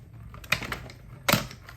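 Die cutting machine pressing a scalloped circle out of red cardstock, heard as a low grinding roll with two sharp crunchy clicks close by, no talking.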